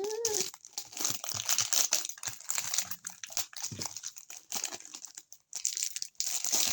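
Plastic packaging crinkles and crackles up close as someone struggles to open it, a busy run of soft rustles and sharp crunches at low volume.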